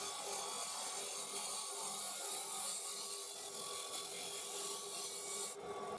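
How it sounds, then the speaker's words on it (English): Steady rasping scrape of a mid-size Easy Wood carbide tool shaping the bottom of a spalted ash bowl on a lathe, continuous and close with a faint motor hum beneath, no talk. "we are now just turning the bottom, getting it to the shape that I'm after. I'm using the Easy Woods mid-size."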